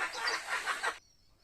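Sonali chickens clucking on a poultry farm, a close burst of busy, overlapping clucks for about a second that then stops, leaving quiet background.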